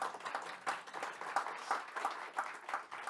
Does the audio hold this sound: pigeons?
no